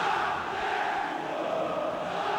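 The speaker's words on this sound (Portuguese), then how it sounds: "A torcida do Atlético tenta empurrar o time para o campo de ataque." Atlético Paranaense home supporters in a packed stadium during a 2007 Campeonato Brasileiro match against Corinthians, a steady distant roar of crowd noise and cheering that holds level throughout.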